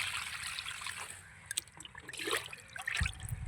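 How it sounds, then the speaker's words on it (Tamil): Old porridge water poured from a container onto a tomato plant in a garden, a soft trickling and splashing that comes and goes in small bursts, close and fairly quiet. "தக்காளி செடிக்கு ஊற்றுறேன்"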